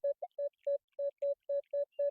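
Metal detector sweeping a meadow gives a series of about nine short, evenly spaced electronic tone pulses, steady and clear with no voices.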